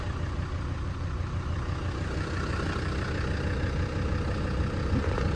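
A 1999 Land Rover Td5 diesel engine idles at factory tune, a steady low rumble close by with even, unbroken running and no voices.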